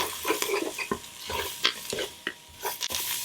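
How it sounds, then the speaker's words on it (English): Almond flour and seasoning are stirred in a hot pan as they cook, with a brisk scraping stir repeated every half second or so over a steady sizzle, close up and with no talking. "I'm going to mix this well and let it cook down a little together."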